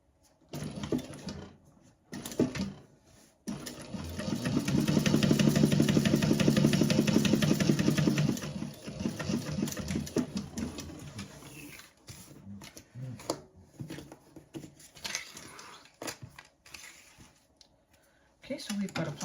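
A sewing machine stitches a pocket in bursts, running steadily for a few seconds and then in shorter starts and stops, with a person talking intermittently nearby.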